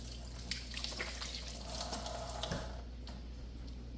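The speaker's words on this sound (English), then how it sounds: "now I'm going to wash my hands" Tap water runs steadily into a sink as hands are washed beneath it, a soft, continuous splashing trickle with faint drips, close by and alone.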